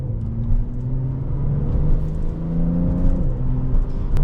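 A Porsche 911 992 Turbo S accelerates hard in third gear, its turbocharged engine a loud, steady rising drone heard from inside the cabin with road rumble beneath.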